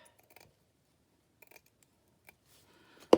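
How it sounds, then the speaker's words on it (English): Scissors snip through a piece of lace for a collage page, a single loud, close cut near the end after a few faint rustles and quiet handling sounds. "So I'll cut a rectangle of that off."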